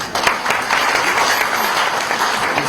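An audience at an honour ceremony in Jaipur claps steadily, a dense wash of applause from many hands that stays fairly loud and even the whole time.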